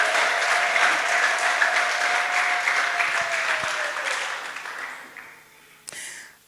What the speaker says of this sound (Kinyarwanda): Imana amashyi n'impundu